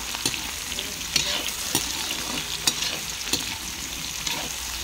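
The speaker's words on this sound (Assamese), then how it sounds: "এতিয়া চাওক অকণমান ভাজি লৈছোঁ" Small unpeeled potatoes fry in hot oil with a steady, dense sizzle, broken by occasional scraping clicks of stirring, close up with no voices.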